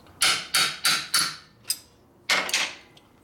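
Steel hammer striking a wrench to torque a bolt on a 1967 Harley-Davidson 74ci Shovelhead FLH during assembly: four evenly spaced sharp metallic clanks, then a lighter tap and two more quick hits, close and loud with no talk.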